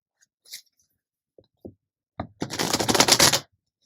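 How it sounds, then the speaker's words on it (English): Deck of tarot cards being shuffled by hand, a few soft taps and flicks followed by a dense, close riffling burst lasting about a second. "Try to shuffle these up good."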